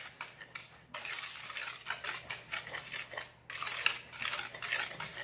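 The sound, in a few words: mixing cupcake batter in a bowl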